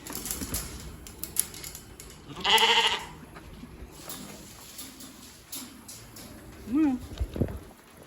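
A sheep gives a loud bleat nearby, followed later by a shorter, fainter bleat, with rustling and background noise in between.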